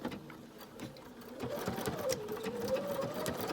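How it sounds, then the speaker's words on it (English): BERNINA jumbo bobbin sewing machine stitching, a close, quiet mechanical whir with a fast needle clatter that rises slightly in pitch and volume partway through. "So it's stitching forward at the moment. I beg your pardon, it's stitching backward at the moment."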